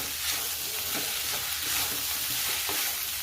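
Soaked sabudana khichdi with peanuts is stirred in a pan, giving a steady soft sizzle broken by repeated scraping strokes of the spoon, close and continuous with no voices.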